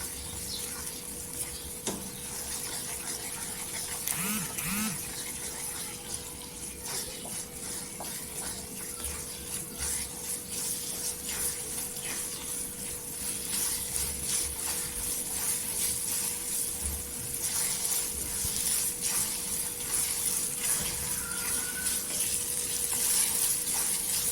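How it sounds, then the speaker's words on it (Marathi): Homemade Schezwan chutney sautéed in oil until the oil separates, with a continuous close sizzle and hiss, occasional stirring scrapes, and a slow build in loudness. "तेल सुटपर्यंत आपण परतून घ्यायची चटणी"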